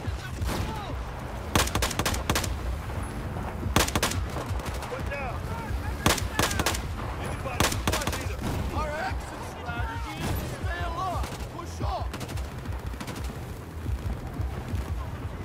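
Bursts of automatic gunfire from Battlefield 4 crackle in repeated volleys, loud and close, over game noise. A player talks now and then between the shots.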